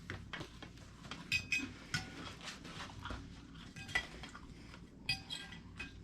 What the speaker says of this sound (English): Time to plate the meal.